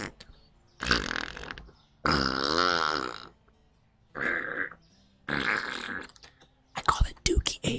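A person imitates fart noises with the mouth for ASMR: several separate buzzy, sputtering bursts of a second or so each, close and fairly loud, split by short pauses and ending in quick popping sputters.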